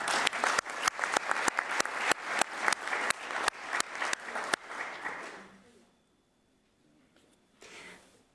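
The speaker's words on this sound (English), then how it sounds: "so I would like an extra applaud for the two." Rhythmic, evenly spaced clapping from an audience at a global skin NTD health meeting, loud and steady for about five seconds before fading into near silence, with a brief faint rustle near the end.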